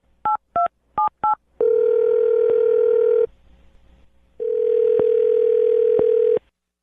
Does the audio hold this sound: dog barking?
no